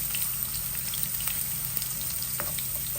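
Garlic cloves fry in hot oil with cumin in a pan, a steady close sizzle with light crackling pops throughout, no voices.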